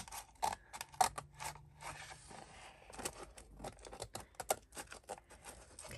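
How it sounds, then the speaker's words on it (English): Scissors or a blade cut through the spine of a book cover, heard as faint, irregular snips, scrapes and rustles of the material up close. "Okay, so I'm going to cut my spine off"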